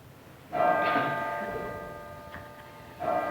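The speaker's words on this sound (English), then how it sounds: "Don't want the bell to fall through the ceiling." A church bell in a San Francisco church is rung by pulling its rope, giving two clear metallic strikes, the first ringing out and slowly decaying before the second.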